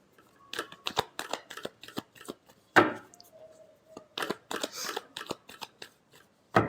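Tarot cards being shuffled by hand, a run of crisp riffling slaps and soft card rustles in quick bursts, close and fairly quiet, with a brief louder thump partway through and no talking.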